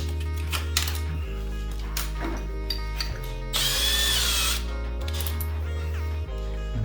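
A power drill fitted with an arrowhead tile bit bores into ceramic tile, its motor whining in steady stretches that change pitch, with a louder grinding burst in the middle as the bit bites into the tile.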